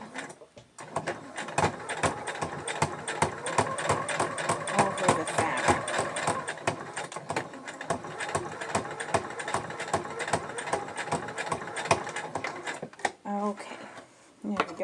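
A sewing machine runs in steady bursts while it stitches elastic onto a fabric face mask, and the whirring rattle carries on under a person talking.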